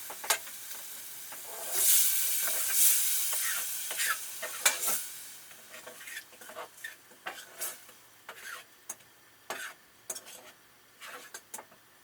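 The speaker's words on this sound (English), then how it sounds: "Give it a little stir." Noodles are stirred in a sizzling pan with smashed potatoes, giving a loud hissing fry at first and then a run of sharp scraping and clinking utensil strokes at an uneven rhythm, close up with no talking.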